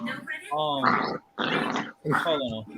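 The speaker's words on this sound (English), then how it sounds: "My dogs are fighting if you hear them in the background." Dogs fight nearby with harsh growls and snarling bursts in three close, loud surges separated by short gaps, while a person speaks briefly over them.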